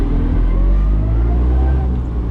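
A Fiat 126 engine with a freshly cleaned carburetor runs on a dyno, giving a loud, steady, low droning hum close by with little change in pitch.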